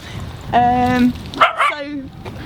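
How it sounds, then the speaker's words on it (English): A guard dog at an allotment gives a couple of close, loud, tonal barks and yelps in quick succession, standing alone without speech. "allotment guard dog"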